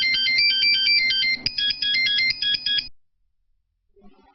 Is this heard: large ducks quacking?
no